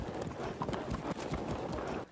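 Hooves of light horse archers in Field of Glory 2, a dense, continuous clatter of many galloping horses at close range, loud and steady for about two seconds before cutting off.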